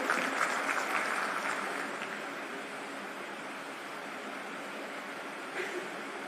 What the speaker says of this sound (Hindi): एक बार जोरदार तालियों के साथ हम स्वागत करेंगे।